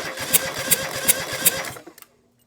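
John Deere 2653A mower engine cranking over with a fast, even chugging rhythm of repeated strokes for under two seconds, then stopping abruptly into near silence.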